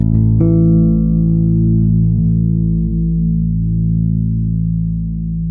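A sustained, distorted tone runs through an Audiofab Frequency Distiller filter pedal, its resonant peak sweeping downward. The sound is loud and dense, with upper overtones gradually thinning out. No one speaks.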